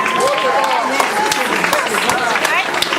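A school audience applauds a teacher's introduction, a steady wash of many hands clapping under a voice that keeps talking over it.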